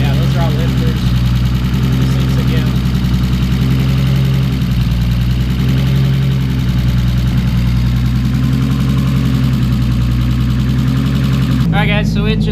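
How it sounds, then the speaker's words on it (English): A Nissan Skyline RB25DET fitted with Kelford .272 cams idles loudly and steadily up close, a deep lumpy drone with a constant rhythmic ticking layered over it and no break in the engine note. "once this gets to idle, we might be able to hear the cams"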